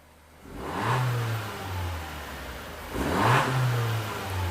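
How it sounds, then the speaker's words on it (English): A car engine revs twice at close range during a scan-tool diagnosis, each time climbing quickly and then holding at a steady raised pitch before dropping back, with no talking. "Okay, Pierre, go brum brum."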